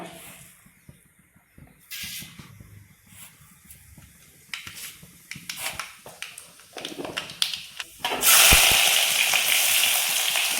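Mustard seeds spluttering in hot coconut oil in a pan, starting as scattered crackles and pops and swelling into a loud, dense, continuous hissing sizzle near the end, with no talk.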